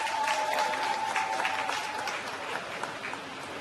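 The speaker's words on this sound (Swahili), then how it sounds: "Makofi na vigelegele vingi kwake." Applause mixed with ululation greets a worker receiving a long-service award certificate at a staff ceremony: steady, dense clapping with a high trilling cry near the start, fairly loud and continuous with no talking.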